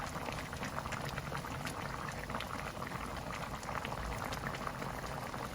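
Pork adobo sauce simmers uncovered in a pot, a dense steady bubbling and popping of reducing liquid, close and even throughout.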